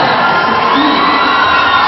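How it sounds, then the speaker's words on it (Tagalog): A loud indoor crowd at a volleyball match cheers and shouts continuously, a dense, sustained roar with high-pitched voices and whoops carrying throughout. "you can hear the crowd really cheering for her"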